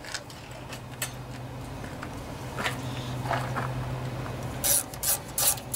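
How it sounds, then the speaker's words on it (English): A ratcheting socket wrench tightening bolts on a riding lawnmower engine during a swap from a Kohler Courage to a Briggs and Stratton opposed twin, quiet clicking ratchet strokes and rubbing close by, ending in a few louder ratchet bursts. "So I'll use a good old-fashioned socket wrench for that."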